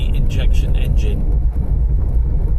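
Ford Fiesta MK4 with the 1.3 injection Endura engine while driving, a steady low engine drone and road rumble heard from inside the car, with someone talking over it.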